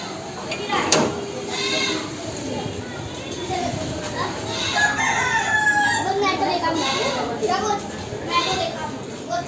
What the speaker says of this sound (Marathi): बकरी आली आहे.